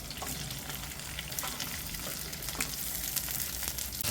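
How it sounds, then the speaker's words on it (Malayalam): Okra fries in three or four tablespoons of coconut oil in a kadai, a continuous dense sizzle and crackle heard up close, with faint stirring and no voices. "ഇനി നമുക്ക് ഈ വെണ്ടയ്ക്ക് ഇതിലൊന്ന് ഇട്ടിട്ട് വറുത്തെടുക്കണം"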